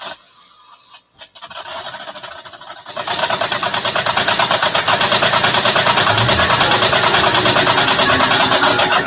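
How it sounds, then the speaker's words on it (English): A car engine running only on gasoline fumes through a single injector, first sputtering and uneven, then settling into a loud, steady, rapidly pulsing idle. "right here we actually have the car running just off gasoline fumes"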